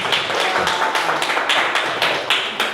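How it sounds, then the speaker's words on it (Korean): A lecture audience breaks into applause, a dense, close burst of many hands clapping that swells in rhythmic waves and holds steady throughout, with no talking over it. "박수 한번 치겠습니다."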